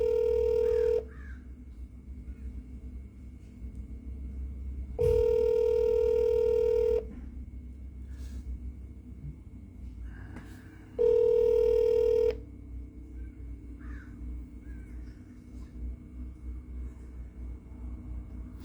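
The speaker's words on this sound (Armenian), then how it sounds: "զանգահարենք ուղիղ WhatsApp-ին" A WhatsApp call's ringing tone sounds three times, evenly spaced, each a clear electronic tone lasting one to two seconds, over a low background murmur in a studio setting.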